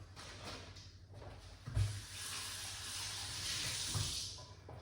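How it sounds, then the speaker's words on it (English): Water pours into a large cup while a colon cleanse drink is prepared, a soft, fairly faint running trickle with a thump partway through and no talking. "we're going to put some water inside of it"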